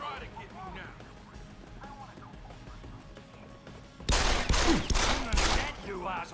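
Pistol fire in the video game Deus Ex: Human Revolution comes as a loud, sudden burst of shots and impacts that breaks in partway through after quieter game ambience, with someone talking over it.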